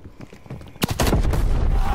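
Gunfire from a slow-firing gun in Black Ops Cold War Gun Game: a sharp loud shot just before the one-second mark, then dense overlapping shots and blasts that continue steadily to the end.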